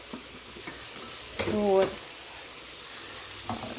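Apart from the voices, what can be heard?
pancake (blin) batter frying in a pan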